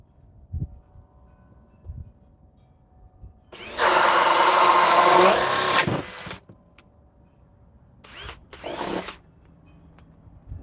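A power drill driven by an 8 amp power pack whirs loudly and steadily for about two seconds, then gives two shorter bursts after a pause, with quiet handling knocks in between.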